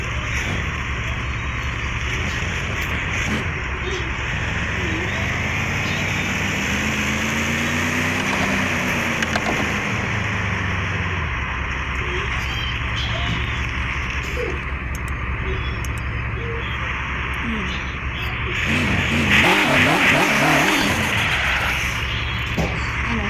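Tuned 1000-horsepower turbocharged Toyota Supra engine running loud and close, a steady heavy drone that sweeps up and down in pitch and swells into a harder rev near the end.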